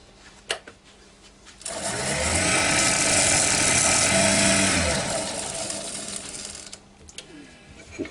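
Woodturning lathe with a freshly sharpened scraper lightly cutting a small wooden cauldron: a steady, close whirring hiss of the cut, swelling in and then fading out after a few seconds.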